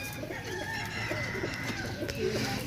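A Kasuri pigeon gives soft, low, repeated coos close by, with faint background murmur and rustling around the bird.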